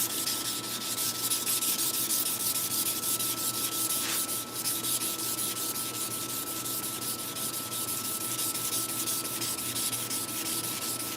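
Sandpaper rubs by hand along a sword blade in a steady, continuous back-and-forth scratch, close and even in loudness for the whole stretch, with no voices.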